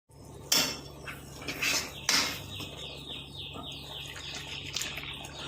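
Apple payasam with milk is stirred in a pan, giving a few clinking metal scrapes of a spoon against the pan, the loudest knocks near the start, then softer rattling over a faint background.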